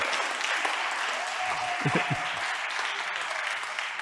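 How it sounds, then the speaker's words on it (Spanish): A conference audience at a Spanish-language talk on tourism and wellness technology applauds the technical staff, producing a steady wash of clapping with a brief voice rising through it midway. "Un aplauso para el servicio técnico, por favor."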